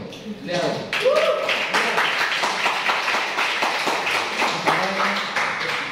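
A class audience applauds a guest speaker, a roomful of hands clapping in a dense, steady patter that swells quickly and holds at a moderate level, with a voice talking over it.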